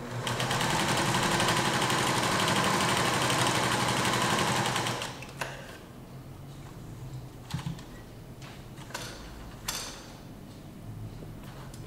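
A sewing machine runs steadily and loudly for about five seconds, stitching a seam, then stops; quieter clicks and handling of the fabric follow.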